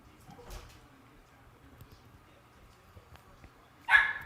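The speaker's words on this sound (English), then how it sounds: "My dog's about to beat down the door" A dog at the door lets out a single loud, sharp bark near the end, after a quiet stretch of faint room sound.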